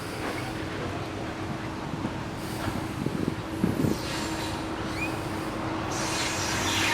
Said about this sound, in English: It's coming across the old Harrisburg Railroad train trestle bridge.